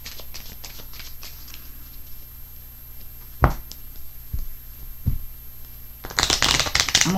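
Tarot cards shuffled and pulled for a reading, a continuous close papery riffling with sharp slaps and a louder burst of shuffling near the end, no talking.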